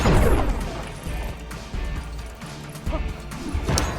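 Objects being smashed in the video game Lego Marvel Superheroes: a loud opening crash followed by several shorter breaking and clattering bursts at irregular intervals, close and punchy.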